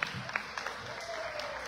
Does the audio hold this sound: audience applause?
yes